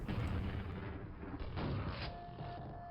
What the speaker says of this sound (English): Man, those grenades.